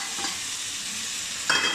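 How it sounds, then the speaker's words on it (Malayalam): Tomatoes being added to aloo bhindi masala frying in a pan bring a soft steady sizzle, then a sharper louder burst of frying and stirring near the end. "ഇനി നമുക്ക് തക്കാളി ഇടാം."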